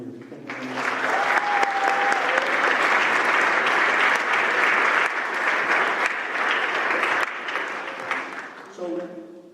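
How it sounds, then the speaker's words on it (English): A room of parents and students at a college counseling junior night applaud warmly, dense clapping swelling quickly and holding for several seconds before tapering off, with a few voices briefly heard near the end. "I'd love to give a warm welcome and a round of applause for you folks for coming here"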